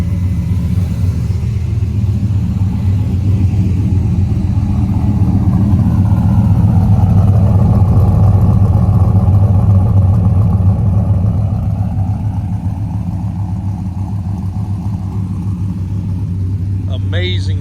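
A heavily modified Viper RT-10 truck engine idles in neutral with a lopey choppy cam, a steady loud low rumble running throughout, close by.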